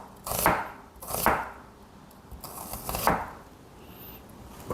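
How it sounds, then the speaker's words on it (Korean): A knife chops through an onion on a cutting board while preparing kimchi, giving a few loud, separate thuds at an uneven pace, close and with no talk. "이렇게 썰시면 돼요."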